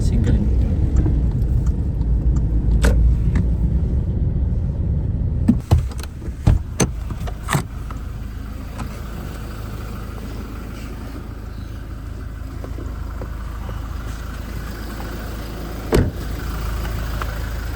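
A car engine idles in a steady low rumble throughout, with a few brief clicks and thumps partway through and some talk mixed in.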